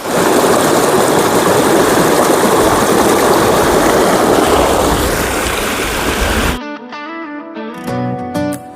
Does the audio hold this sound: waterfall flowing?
yes